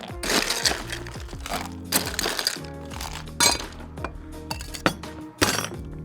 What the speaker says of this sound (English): And then you're gonna add some ice.